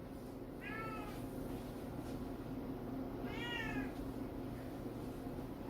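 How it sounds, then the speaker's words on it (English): A pet cat named Remy gives two separate meows a few seconds apart, fairly clear over a steady low indoor hum. "That is my cat Remy."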